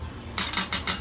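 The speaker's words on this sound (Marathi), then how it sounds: "ते आता आपण चॉकलेटमध्ये मिक्स करतोय" Leftover paneer cheesecake batter is mixed into chocolate in a bowl, making three or four quick metallic clinks of a utensil against the bowl, close and moderately loud.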